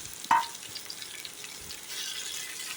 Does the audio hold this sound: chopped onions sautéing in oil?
yes